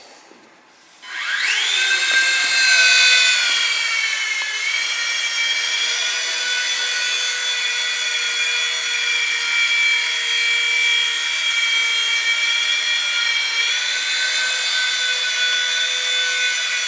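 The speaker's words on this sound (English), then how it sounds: "if you go the other way, you'll hear the little motor in the back" A remote-control helicopter's small electric tail motor spins up sharply, then holds a high, steady whine with slight pitch wobbles.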